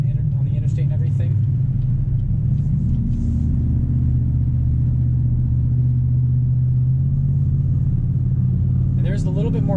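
A 2018 Chevy Traverse SUV engine hums at steady low rumble while merging toward the interstate, with a faint rise in tone and a voice talking over it.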